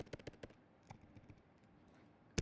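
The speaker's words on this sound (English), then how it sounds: "Sorry if you hear my keyboard." Quiet computer keyboard typing gives a quick burst of crisp clicks at the start, then a few scattered keystrokes and one louder tap at the end, all close by.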